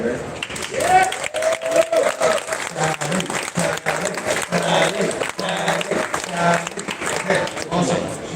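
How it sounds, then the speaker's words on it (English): An audience applauds at a live event, a sustained wash of clapping with crowd noise and some vocal sounds mixed in throughout. "let's get a round of applause for Sally over there."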